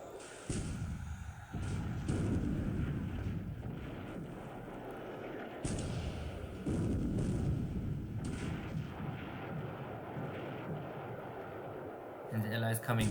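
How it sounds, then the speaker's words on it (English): Naval gunfire and shell hits from the War in the Pacific strategy game, a WWII Pacific battle with 5-inch shells: repeated heavy booming blasts and rumbling impacts in bursts that fill most of the span, with speech present. "Okay, 5-inch shell hit"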